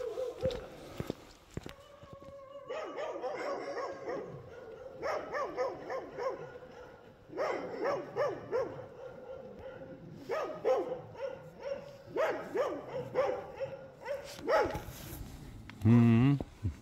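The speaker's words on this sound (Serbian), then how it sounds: "Psi čuvaju ulaz u selo. Sad ćemo vidjeti, ima tu dosta još pasa." Dogs guarding a village entrance bark in repeated bursts that overlap one another. They sound fairly close, with a few short yips near the end.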